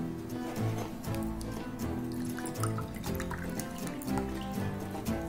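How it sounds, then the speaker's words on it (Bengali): Water is poured into a bowl of semolina, giving a continuous, close, trickling, splashing wash with faint dripping detail. "এই এক কাপ মতন জল দিলাম।"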